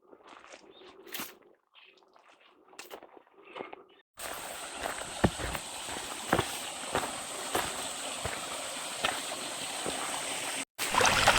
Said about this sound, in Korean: 이 길을 따라 올라가니 물소리가 들리고 조그만 개울이 나옵니다